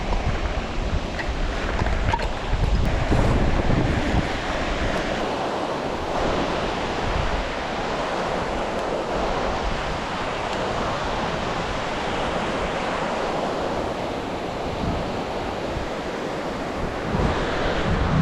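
Steady, loud roar of strong, cold rushing water and surf below a bridge, with gusts of wind buffeting the microphone throughout.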